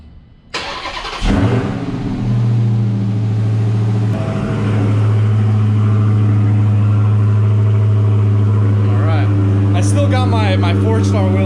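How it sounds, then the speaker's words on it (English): A Dodge Charger Hellcat Widebody fitted with an aftermarket intake cold-starts with a sharp crank and loud flare, then settles into a heavy, rumbling high idle nearby, with a faint voice briefly audible near the end. "So let's go ahead and start the car."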